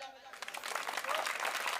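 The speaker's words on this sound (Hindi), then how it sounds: "ताली बजाओ।" Applause from the audience at a Hindi comic poetry gathering, a dense burst of many hands clapping that starts softly and quickly swells to a steady, full roar filling the hall.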